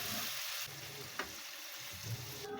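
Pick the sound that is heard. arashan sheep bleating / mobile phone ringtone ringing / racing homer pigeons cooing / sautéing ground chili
sautéing ground chili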